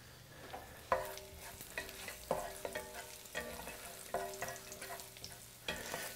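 Shrimp stir-fry with pineapple and pawpaw cooking in a pan: a soft, steady sizzle with repeated light clinks and scrapes of a utensil stirring against the metal pan, fairly quiet and close.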